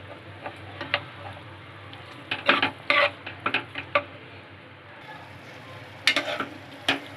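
Pasta sauce is stirred in a pan: a low simmering sizzle underneath, broken by clusters of sharp spoon scrapes and clicks against the pan.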